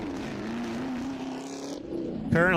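A Camaro on an autocross course drones with a steady engine note from a distance, shifting slightly in pitch, before a louder rising rev burst at the very end.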